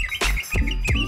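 Green leafbird chirping close and loud, three quick bright calls in about a second with short gaps between, alone with no voices.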